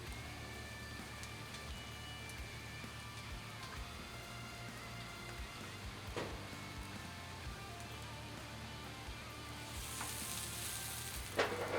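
Buttered sub rolls toasting on a griddle set to low heat, a steady close sizzle like light rain with faint scraping and a brief clatter near the end.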